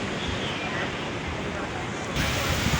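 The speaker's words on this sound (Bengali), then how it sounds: "এখানে দেখেন পানি কি পরিমাণ ঢেউ হচ্ছে" Sea waves break on a rocky stretch of the Chattogram beach, a loud continuous surf roar with wind noise that swells into a heavier surge near the end.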